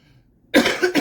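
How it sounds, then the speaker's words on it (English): A harsh, close cough bursts out after a near-silent moment, followed by a second shorter hack. "I got to do something about this damn cough"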